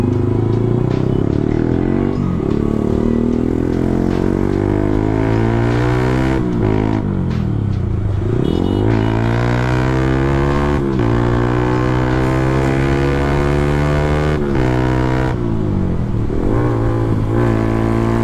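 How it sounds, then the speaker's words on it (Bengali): A motorcycle with a modified exhaust rides through city traffic in Dhaka, its loud, close engine rising and falling through repeated revs and gear changes, with rattly exhaust notes and no talk. "ঢাকা সিটিতে এক্সস্ট বাইক চালাইলাম"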